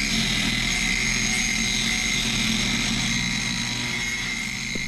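An angle grinder works the outside of boat through-hull fittings during a haul-out, giving a loud, steady whine that holds without a break.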